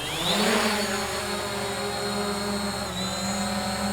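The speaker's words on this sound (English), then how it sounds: "I'm going to hit the takeoff button on the controller here" Motors of a Hubsan Zino drone spin up for takeoff, a close, steady high-pitched whine that rises in pitch at the start and then holds a constant buzzing hum.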